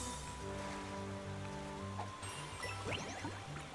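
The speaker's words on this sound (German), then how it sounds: "Ich spritz Wasser?" Water sprays in Super Mario Bros. Wonder, a soft, rain-like hiss and patter over a steady game music tone, with no talking.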